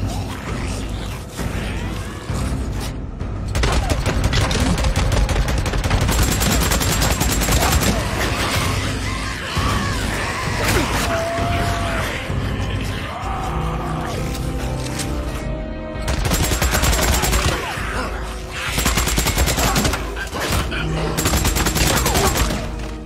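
Bursts of gunfire from the video game Days Gone come in heavy, rapid volleys that stop and restart several times amid growling creature noises, with short gaps between the loud, close barrages.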